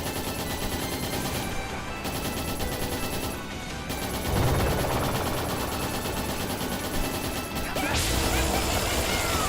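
Missile attack in Trails in the Sky 3rd, a video game: a dense run of crashing impacts and rapid, gunfire-like bursts that keeps going throughout, with a harsher burst of explosions near the end.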